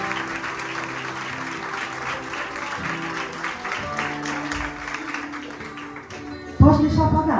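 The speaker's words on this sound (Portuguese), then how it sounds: "Aplauda ao Senhor em nome de Jesus." A church congregation applauds, with dense, sustained clapping over tonal music. The clapping holds steady throughout and swells louder near the end.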